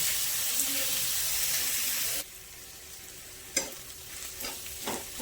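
Masala with ginger-garlic paste is stir-fried for a chicken stew, with a strong frying hiss that suddenly drops to a quieter sizzle, followed by a few sharp scrapes of a spatula in the pan.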